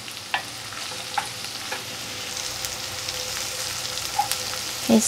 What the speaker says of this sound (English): So now I cranked up the heat to really caramelize the onions.